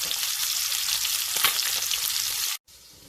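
Chicken sizzles loudly and steadily in a hot pan, a dense crackling hiss that cuts off abruptly near the end.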